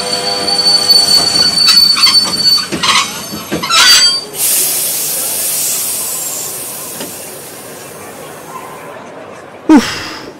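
A local train's wheels squeal and screech on the rails close by, fading into a hissing rush, with a sharp clank near the end.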